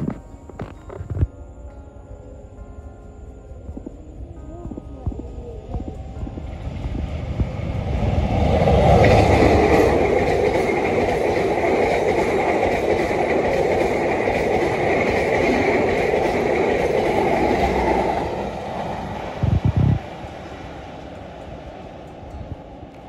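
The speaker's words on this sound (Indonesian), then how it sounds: "Kereta api Senja Utama Yogyakarta sudah lewat depan kita" Senja Utama Yogyakarta passenger train rolls past at close range at sunset, a rising rumble and roar that holds steady for several seconds with wheel clatter before fading, no talk over it.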